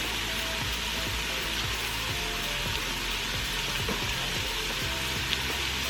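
Celery and carrots sizzle steadily in hot oil inside a pressure cooker while short ribs are being prepared, a dense, constant frying hiss with soft stirring knocks throughout, no voices.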